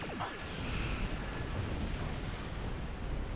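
A sustained roaring blast rumbles through a space battle in Star Trek Online, a broad rushing explosion that stays loud and steady for several seconds with no voices over it.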